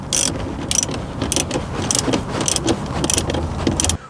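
A ratchet tightening bolts behind the new screen in a Lexus IS center console: steady rhythmic clicking strokes, about eight sharp close ratcheting bursts evenly spaced over four seconds, loud and alone.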